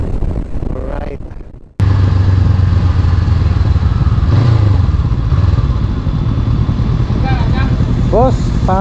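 Motorcycles idle and rev on a road in Bohol, a loud, continuous engine rumble that cuts off briefly and then resumes, with people talking over it.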